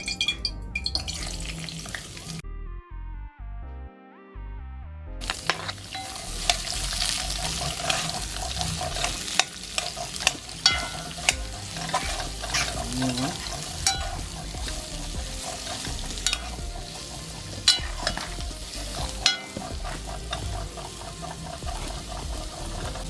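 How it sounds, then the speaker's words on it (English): Garlic and pepper frying in hot oil for Jamaican escovitch fried chicken, a steady sizzle mixed with stirring, clattering utensils and running tap water, with a short quiet gap near the start before the cooking noise returns loud and busy. "Burn out the oil as usual, you know? Garlic and pepper."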